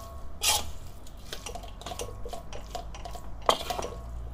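Fried kway teow with prawns is stirred in a pan, with sharp metallic clinks and scrapes of the utensil against the pan over a quiet sizzling background.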